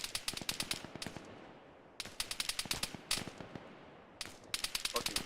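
Flare rounds fired in bursts in Arma 3: rapid, sharp crackling shots in several volleys separated by short pauses, loud and close, with a brief gap of quiet between strings.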